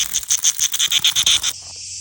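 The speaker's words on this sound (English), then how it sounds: "Cicadas are the loudest insects in the world" Mediterranean cicadas buzz loudly and close by in a rapid pulsing rhythm of about ten shrill bursts, then settle into a steady continuous drone.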